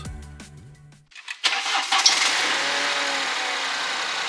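A BMW 118i with a previously stuck VANOS camshaft cranks briefly, catches and starts, then settles into a steady, close idle, after a short bit of music fades out.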